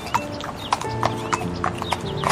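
A king's horse gallops through a forest, its hooves clip-clopping in quick, uneven beats close by, with a brief whinny-like cry among the strikes.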